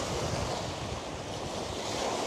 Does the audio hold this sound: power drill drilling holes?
no